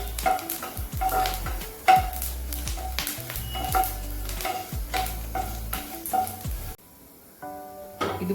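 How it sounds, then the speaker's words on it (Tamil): Pirandai (veldt grape) sautéing in a little oil in a pan, with close sizzling broken by repeated rhythmic stirring scrapes and clatters, stopping briefly near the end before resuming. "கொஞ்சமாக எண்ணெய் விட்டு வதக்கணும்."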